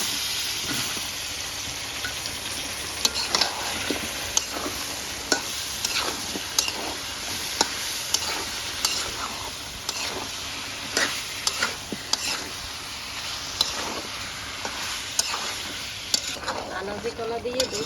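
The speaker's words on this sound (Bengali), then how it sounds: "আনাজি কলাটা ভালো মতন কষানো হয়ে গেছে" Raw green banana sizzles steadily in a pan of spice masala, with frequent sharp scrapes and taps from a spatula stirring it close up. There is little or no speech.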